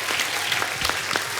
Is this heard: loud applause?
yes